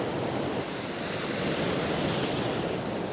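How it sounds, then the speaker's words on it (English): Wind blows hard at a sandy beach during shore fishing, a steady broad roar mixed with surf, loud and constant with no voices. "The wind has swung around, so I've had to put my body that side, give me a little bit of shelter."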